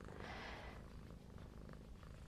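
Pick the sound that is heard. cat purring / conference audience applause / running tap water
cat purring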